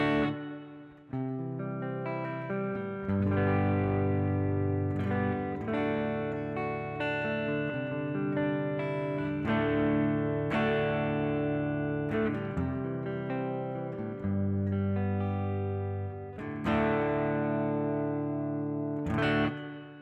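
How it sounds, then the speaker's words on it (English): Electric guitar played through a Mugig Reverburg reverb pedal with the effect turned up toward three o'clock, sustained chords ringing with a washy reverb tail, loud and close with no talking. "So you're starting to hear a little bit more reverb"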